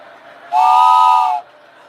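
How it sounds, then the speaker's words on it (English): A toy train whistle gives one loud, steady, tonal blast lasting just under a second, rising sharply and cutting off cleanly over a quiet background. "That sounds like a train. Is that a whistle?"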